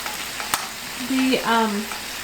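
Steady hiss of ginger frying in a pan, with a clink and some faint background tones mixed in.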